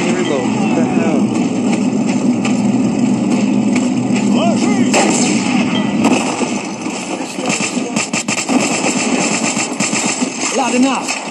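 Heavy gunfire in the mobile shooter World War Heroes sounds as constant loud shots and rattling bursts over rumbling game noise, while a person talks throughout.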